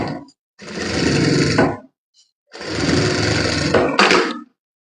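Sewing machine stitching a fabric seam along the edge of a bag, two sustained runs of fast whirring, each lasting over a second, separated by a short pause and ending with a brief clunk.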